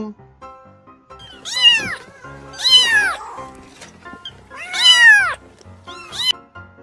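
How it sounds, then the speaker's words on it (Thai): A cat meows four times, loud and close, each a drawn-out rising and falling cry with short pauses between. "คำตอบก็คือ เจ้าแมวเหมียว"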